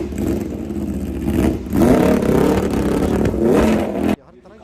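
A superbike engine fires and revs hard in rising, loud bursts for about four seconds, with a voice talking over it, before the sound cuts away abruptly.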